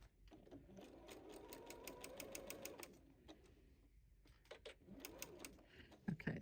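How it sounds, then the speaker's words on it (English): A sewing machine stitches binding onto a quilt in fast mechanical bursts, pausing briefly between runs, close up and fairly quiet, with a small clatter near the end. "I'm going to sew right on that line."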